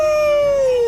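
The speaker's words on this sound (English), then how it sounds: "I ran out of the forge and let out a loud howl" A werewolf howl from the Minecraft video game, one sustained, slightly falling wail that fills the whole short moment, loud and close with no talk over it.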